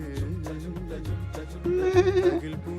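Goats at a farm stay at Mannat Farms in Abu Samra bleat nearby in a loud, wavering cry over a background of rhythmic thumps and other farm noise.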